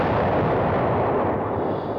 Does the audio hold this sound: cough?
no